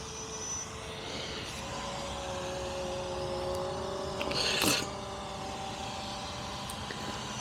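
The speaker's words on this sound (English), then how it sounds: "This drone I'm kind of not liking so much." A small drone flies overhead with a steady, faint motor whine that hums evenly, swelling briefly louder midway before settling back into the same continuous drone, with no talking.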